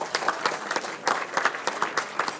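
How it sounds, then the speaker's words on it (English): Applause from a council meeting audience, a small group clapping in an uneven rhythm, close and moderately loud, with no speech over it. "Another big round of applause for the Donnas."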